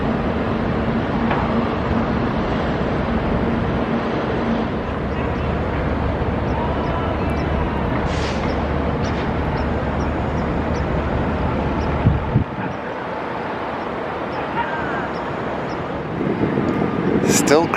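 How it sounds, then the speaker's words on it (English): Wind buffeting the microphone outdoors beside the water at Hudson Yards in New York, a loud, continuous roaring rumble with a distant city hum, while a person talks over it. "And lots of wind noise. So we're right off the water."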